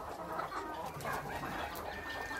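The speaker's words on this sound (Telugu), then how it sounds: "మనకు ఈ విధంగా నాటుకోళ్ళు పుంజులు కూడా" Native country chickens and roosters cluck steadily at close range, a dense mix of overlapping hen calls with no talking.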